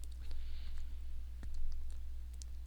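Pokémon trading cards from a League Challenge match are shuffled and laid out on a table, producing faint, scattered clicks and soft rustles in a quiet room with no talk.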